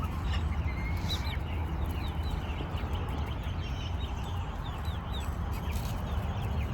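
Chickens cluck and chirp in scattered short calls over a steady low rumble of background noise, moderately close.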